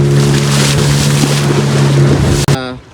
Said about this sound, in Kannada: ಸೊ ಇದು ನಮ್ಮ ಬೋಟು. ಸಮುದ್ರಕ್ಕೆ ನಾವು ತಲುಪಿದ್ವಿ.